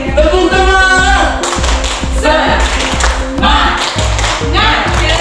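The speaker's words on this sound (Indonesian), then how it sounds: "Tepuk tangan." A group of teachers clapping hands in a rhythmic chant, sharp claps and taps in a repeating pattern, close and loud, mixed with voices calling along.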